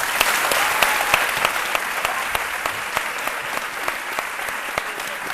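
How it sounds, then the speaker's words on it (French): Audience applause welcoming the Guinean community onstage at a Black M midday show, a steady dense patter of many hands clapping at a fairly near, even level throughout. "On peut les applaudir."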